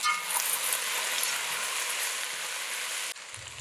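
Diced aloo (potatoes) frying in oil in a pan over medium to low heat for Trinidad fried aloo, a steady close sizzle with faint scraping of stirring, the crackle dropping off near the end.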